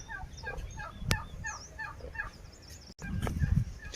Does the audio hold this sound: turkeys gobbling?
yes